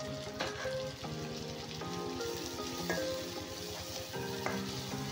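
Tomato sizzles and fries in a hot pan with onion and spice paste while a Bengali fish curry is being cooked. A steady, dense crackle runs throughout with light stirring clinks and no talking.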